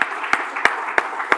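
A few slow, distinct claps ring out at an even pace in a conference hall during a workplace panel event, about five sharp hand claps in a row against a quiet room tone.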